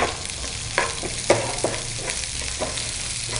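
Onions, green chillies, cumin and mustard seeds fry in hot oil with a continuous sizzle, punctuated by several sharp stirring scrapes and clinks of a spoon against the pan.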